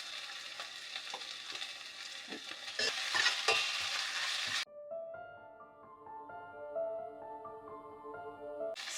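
Homemade ginger garlic paste sizzles loudly in a hot pan with stirring for about four and a half seconds, then the frying drops away under a melodic tone.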